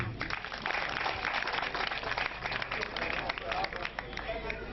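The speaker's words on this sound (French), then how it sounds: "C'est pour ça que je vous demande d'applaudir l'école Jean Madré." An audience at a foundation donation event applauds the Jean Madré school, a steady dense clapping sustained for several seconds with crowd murmur mixed in.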